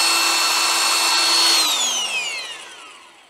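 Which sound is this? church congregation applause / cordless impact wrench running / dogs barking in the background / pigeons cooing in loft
cordless impact wrench running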